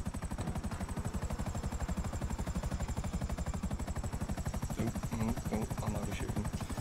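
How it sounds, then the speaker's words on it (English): A video-game helicopter beats its rotor in a fast, steady, loud chop throughout while it comes in to land, with players talking faintly over it. "this is the problem I have when I fly on helicopters"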